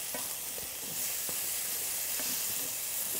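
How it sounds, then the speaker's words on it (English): Carrots and a little garlic sizzle loudly in a pan while a utensil scrapes browned bits from the bottom, a continuous hiss with a few soft knocks and scrapes throughout. "just the carrots, a little bit of garlic, the brown bits from the bottom of the pan. I'm scraping up a little bit as I'm doing this"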